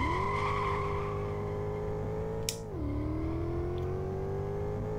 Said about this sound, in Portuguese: O som do motor é bem baixinho, né, gente?